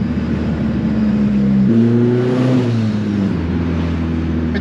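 A 500 hp turbocharged SR20 engine with a CNC-ported head, fitted in a Datsun 1600, spools hard with a loud, steady droning note that steps up in pitch as boost builds, close and continuous with no talk.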